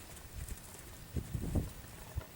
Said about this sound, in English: Now this is a collected trot.